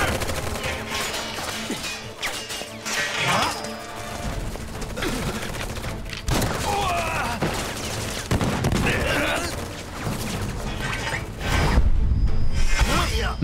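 Dense bursts of Final Fantasy 7 Remake gunfire rattle on and off throughout, with rapid automatic fire and a heavier blast near the end, over a busy game soundtrack.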